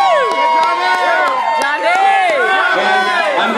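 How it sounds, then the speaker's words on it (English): Cheering crowd greeting a singer, a dense roar of overlapping shouts, whoops and voices held loud and close for the whole stretch. "Give a nice round of applause."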